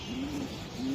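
A racing pigeon coos softly, a low steady hum swelling twice over a faint background, with no talking.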